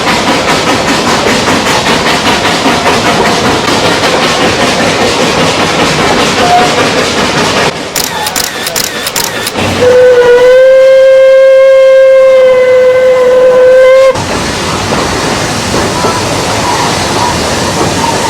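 Puffing Billy heritage steam train in Australia: a rumbling, rhythmic running train, then a long loud steady whistle blast lasting several seconds before the chugging resumes.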